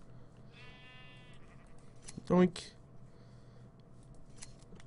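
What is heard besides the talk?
sheep bleating and being sheared in a video game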